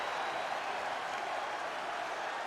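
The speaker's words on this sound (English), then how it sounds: "Getting a nice round of applause from the crowd." A virtual arena crowd in the wrestling video game WWE 2K22 gives a steady, even round of applause during ring introductions, a dense wash of clapping with no breaks.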